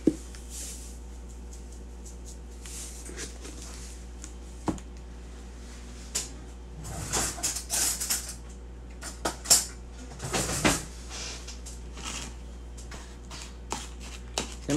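Stirring ingredients together in a pot, with scattered quiet clinks and scrapes of a utensil against metal over a low steady hum, growing busier midway.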